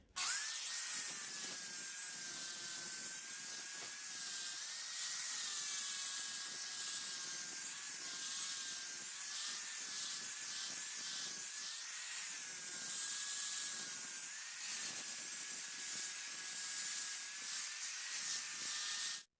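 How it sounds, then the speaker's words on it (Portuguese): An angle grinder whines at a steady high pitch while an abrasive disc scrapes and hisses against iron, rising and falling in waves as it moves, with no talking. "Eu fui fazer um acabamento aqui lixando com a esmerilhadeira e com a linha"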